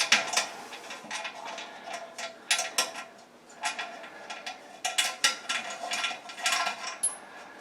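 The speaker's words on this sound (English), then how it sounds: "And we're going to unscrew it and take the bolt off." A ratchet clicks in short, uneven bursts while a toilet bolt is unscrewed, sharp metallic ticks with brief pauses between them, close and moderately quiet, with no talking.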